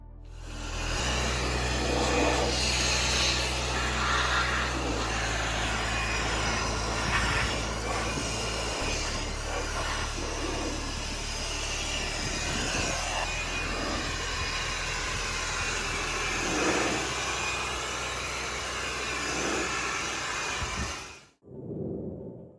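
A Makita 18-volt cordless air blower drying a car, a loud continuous whooshing roar with a low motor hum that holds steady for a long stretch, shifts tone partway through, then cuts off abruptly near the end.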